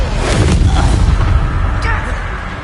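A Bombarda spell explosion in the game Hogwarts Legacy, a loud, close, low booming blast that rolls and decays over a couple of seconds, with a voice calling out over it.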